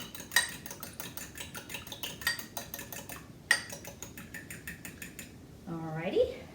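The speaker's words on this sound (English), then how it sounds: "get out a fork, and we're just going to scramble this egg here," A fork scrambles an egg in a bowl for an egg wash, giving a fast run of close, bright clinks against the bowl, with three sharper taps standing out before the whisking fades; a person speaks briefly at the end.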